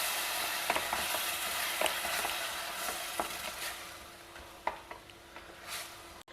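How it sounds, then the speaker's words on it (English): Ground mint paste frying with softened tomatoes in a pan, a soft continuous sizzle with scattered scraping stir strokes and small clicks, fairly quiet and close, fading slightly toward the end. "fry the paste for a couple of minutes"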